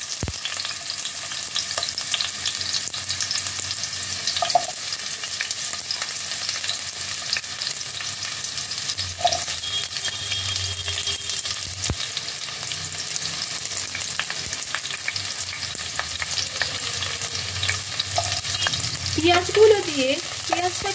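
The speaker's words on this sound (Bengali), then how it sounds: "পেঁয়াজগুলো দিয়ে পেঁয়াজটাকে তেলের মধ্যে হালকা নাড়াচাড়া করে নেব" Diced onions sizzle steadily in hot refined oil, a constant frying hiss with occasional scrapes and knocks of a utensil stirring them in the pan.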